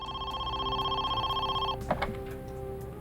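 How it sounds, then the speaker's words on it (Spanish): A telephone rings with a steady electronic trill for almost two seconds, then cuts off abruptly and leaves a quiet room with faint clicks and background hum. "el teléfono volvió a sonar."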